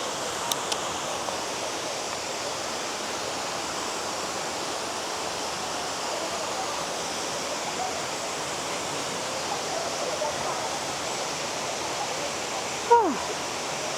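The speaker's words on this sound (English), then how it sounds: "we're still hiking to the waterfall" A waterfall in the Philippines heard from a hiking trail, a steady broadband rush of falling water filling the whole stretch, with a brief knock near the end.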